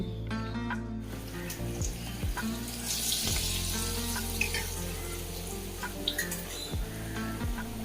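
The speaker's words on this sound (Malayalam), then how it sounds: "ഇതുപോലെ ഞാൻ എല്ലാം ഒന്ന് ഫ്രൈ ചെയ്തെടുക്കലാണ്" Potato and egg pieces frying in hot oil bubble and sizzle steadily over a background of music, with a few small clinks and drips from the kitchen.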